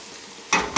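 Meat for a ragu frying in a pan: a low hiss gives way to two loud bursts of close sizzling and stirring in quick succession.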